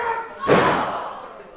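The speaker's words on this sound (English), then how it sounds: "What diving headbutt!" A wrestler's diving headbutt lands in the ring at a wrestling match, one loud heavy thud on the mat that rings out briefly and fades.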